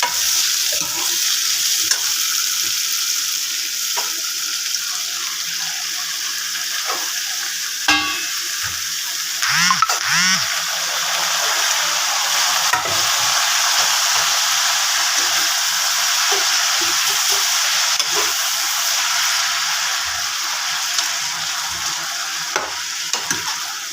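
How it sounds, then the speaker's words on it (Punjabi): Potatoes and radish pods frying in a pan, a loud, continuous sizzle with occasional stirring scrapes and clinks, steady throughout with no voices. "ਪਹਿਲਾਂ ਆਪਾਂ ਇਹਨੂੰ ਫਰਾਈ ਕਰ ਲਾਂਗੇ"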